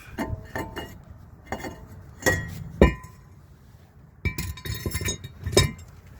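Metallic clinks and clanks ring out as a brake rotor is worked off a Jeep Wrangler JK wheel hub, several sharp hits and scrapes in irregular bursts, close and fairly loud, with no talk.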